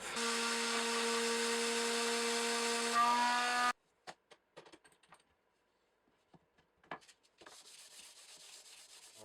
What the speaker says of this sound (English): I used a little palm sander and sandpaper and sanded this back until it feels and looks very much like a guitar neck